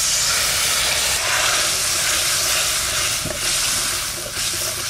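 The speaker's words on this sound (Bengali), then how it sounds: "এবার একটু জল দিয়ে দেবো" Water poured into a pan of spiced tomato masala for a pomfret fish curry, giving a loud, steady hiss and sizzle that runs the whole time with no talking.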